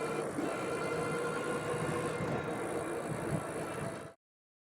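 Aventon Aventure and Rad Power Bikes RadRover 6 Plus fat tire e-bikes accelerating on throttle, a steady motor whir with tire hum and light rattling. It stays fairly loud and constant, then cuts off abruptly.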